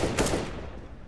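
A dense burst of rapid gunfire from the video game CS:GO, with sharp reports clustered early, then trailing off into a noisy decay; loud and close, with no talking.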